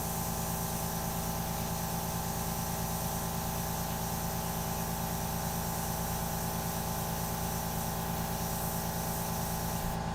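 Airbrush spraying India ink for a portrait, a continuous close hiss holding steady and unbroken throughout, with no talking.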